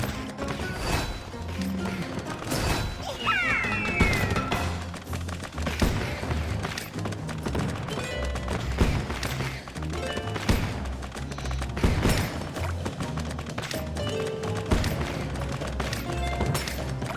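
Repeated explosions and booms in the mobile tower-defense game Rush Royale, with bursts of gunfire and crashes scattered across a busy, loud battle soundscape.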